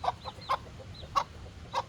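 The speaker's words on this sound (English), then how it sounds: "these hens roam around with their chicks" Hens roaming with their chicks cluck in short, separate bursts, about four or five clucks spaced irregularly, fairly close with quiet farmyard background.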